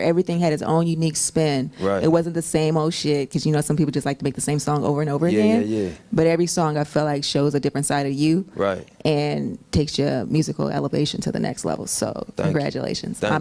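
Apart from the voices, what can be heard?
No everyday noises stand out.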